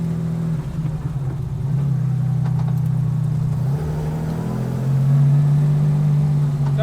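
A 1960s Le Mans Jaguar race car running on a track, its engine a steady loud drone that dips briefly and then rises with stronger throttle in the last few seconds, with no talking.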